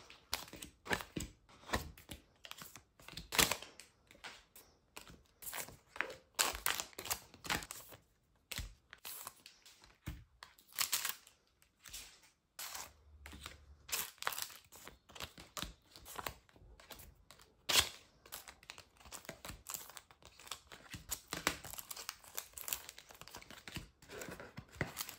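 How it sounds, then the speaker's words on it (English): Packaged K-pop photocards are unboxed and flipped through, giving irregular close crinkling, tearing and crisp card-flicking rustles that come in bursts with brief pauses, with no talking. "So I'll now unbox all of these cards and just flip through them."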